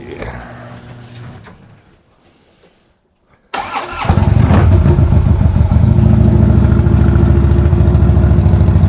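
A motorcycle engine cranks and catches on the first try, bursting loud and close after a moment of near silence, then settling into a strong, steady idle rumble.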